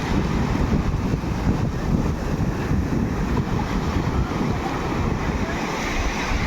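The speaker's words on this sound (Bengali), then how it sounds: "আবার একটা ঢেউ আসছে তো" Steady roar of surf breaking on Marina Beach, Chennai, with wind rumbling across the microphone throughout, loud and close with no pauses.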